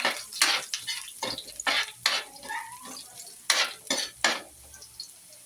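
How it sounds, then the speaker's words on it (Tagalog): Garlic sautéing in hot cooking oil for pakbet, a soft sizzle broken by a run of clattering stirs and scrapes of a utensil against the pan, close and uneven. "mainit na yung mantika. Tayo magigisa na. Bawang."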